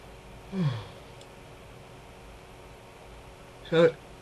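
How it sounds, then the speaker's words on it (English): A drawn-out yawn close to the mic in a quiet room, followed a few seconds later by a second short breathy vocal sound. "Sorry again for yawning, people"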